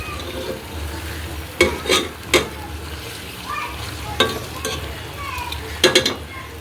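Spices and meat stirred in hot oil for a chicken pulao, a constant low sizzle punctuated by several scraping strokes of a spoon against the pot.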